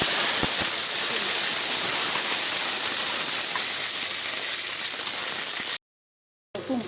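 Sliced onions sizzle in hot oil with mustard seeds, cumin and fenugreek for a fish curry: a loud, continuous hiss that cuts out abruptly near the end, then resumes briefly.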